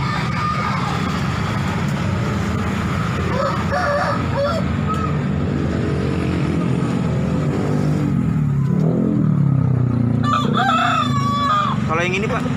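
Papoy chickens at the Daya market in Makassar, with roosters crowing and birds clucking close by over a steady din of traffic and engine noise, and faint voices in the background.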